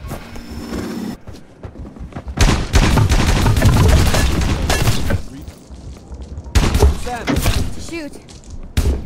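Rapid gunfire crackles in the Roblox game Vampire Hunters 3, with dense loud volleys and thumping shots in bursts, mixed with game sounds and voices talking.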